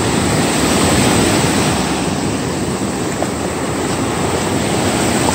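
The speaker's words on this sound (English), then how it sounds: "let the waves come in." Ocean waves wash in on a sandy beach where sand crabs are dug, a steady, full roar of surf with rushing wind noise on the microphone, loud and continuous with no voices.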